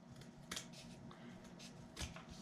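Scissors trimming a strip of cardstock for a handmade paper keepsake box: quiet, close snips, a few sharp cuts spaced through a soft background.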